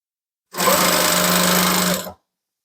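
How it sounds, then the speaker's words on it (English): A sewing machine stitching ribbon onto a tutu runs in one steady, loud, close burst of fast whirring for about a second and a half, then stops into silence. "So I'm going to continue this stitching all the way around."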